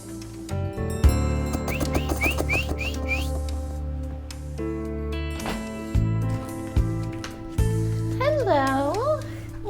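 A cartoon character sings like a bird, a voice imitating birdsong: rising chirps in a quick series of five, then a long wavering trill later, over background music and sound effects.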